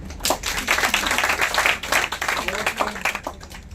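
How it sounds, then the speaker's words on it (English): A crowd claps in a steady patter of many hands for a few seconds, fairly close and moderately loud. "Clapping please."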